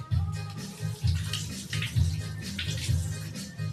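Tap water running in a kitchen sink while bay leaves are rinsed under it, a close, pulsing splash that breaks and resumes in short bursts as the leaves are moved through the stream.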